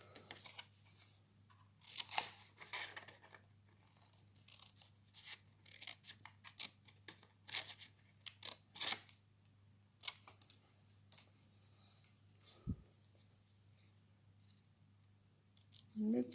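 Scissors snip paper for a small Stampin'Up Christmas origami box, a series of short, crisp cuts in irregular bursts, quiet and close, with faint handling rustles between them.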